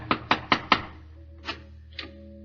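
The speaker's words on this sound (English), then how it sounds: "He knocks on the front door." Four firm knocks on a front door in a radio drama, evenly spaced and close, followed by two softer single thuds after a pause, over a steady low hum.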